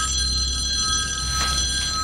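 An electronic telephone rings in one continuous bright trilling tone, loud and close, with no voices.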